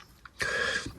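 A single short, rough cough sounds close to the microphone, a brief throaty burst lasting under half a second, preceded by a faint small sound.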